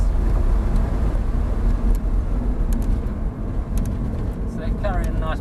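An Audi R8 on a race track lifts off the throttle, its engine a loud, close, low roar inside the cabin that eases slightly, with a voice speaking over it near the end.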